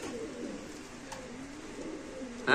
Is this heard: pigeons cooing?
yes